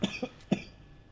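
A person with a sore throat coughs three times in quick succession, close and fairly loud, two short hacks followed by a stronger one, then quiet.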